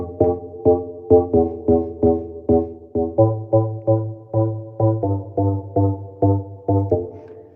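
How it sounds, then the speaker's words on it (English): A synthesized bass line from Record Box plays a short looping melody of plucky repeated notes in a steady rhythm. A deeper sustained low layer joins partway through. The sound is clean and fairly quiet, with no talking. "So I wrote this little bass line here"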